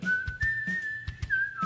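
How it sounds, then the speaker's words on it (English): A short whistled jingle, a sustained melodic whistle with slight pitch bends, sounds close and clear over a pulsing thumping beat throughout. "when you hear the whistle, you know what's coming"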